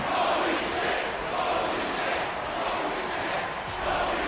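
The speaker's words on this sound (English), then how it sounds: "The crowd losing their minds just like we are" A crowd roars wildly at a wrestling match in a video game, a dense sustained cheer that swells and dips slightly, loud and continuous with no voices picked out.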